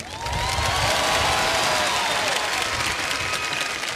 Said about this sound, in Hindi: इस बात पे तालियां बज जाएं तो अच्छा लगेगा